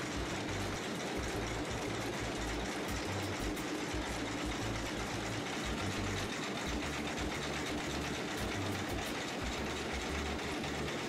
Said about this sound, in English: With the aid of countless small hooks fitted to rollers, the wool fibers are straightened out into parallel lines or combed.